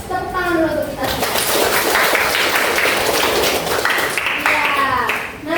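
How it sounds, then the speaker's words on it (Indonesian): A classroom of schoolchildren breaks into applause together, a loud, sustained burst of clapping with children's voices chattering over it before it fades. "Tepuk tangan dulu untuk kita semua."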